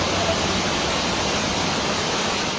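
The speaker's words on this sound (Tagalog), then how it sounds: "kundi kulay putik na baha ang rumagasa sa hagdan ng elementary school na ito sa Jose Panganiban, Camarines Norte." Muddy floodwater rushes down the stairs of an elementary school in Jose Panganiban, Camarines Norte, during a typhoon, a loud, steady, dense roar like a waterfall with no pause.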